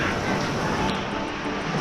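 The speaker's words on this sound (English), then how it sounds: "look at that rain" Heavy tropical downpour in the Philippines, a dense steady roar of rain hitting surfaces, close and continuous through the short stretch.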